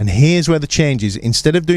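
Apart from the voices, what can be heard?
No distinct noise like a dog, phone or traffic.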